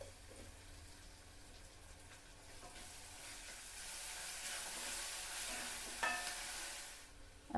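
Green chili paste fries in a pan for a potato and broad bean curry, giving a steady, fairly quiet sizzle that swells slightly midway, with a brief metallic clink near the end and no talking.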